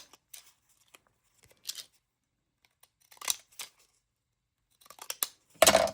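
Several short bursts of decorative scissors snipping through paper, irregular and close, separated by quiet pauses, with a louder rustle at the end.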